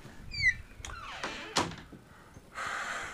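A door in a house opening, a squeak followed by a few thunks and a clunk as it moves, then a soft rushing noise, close and fairly quiet with no talking.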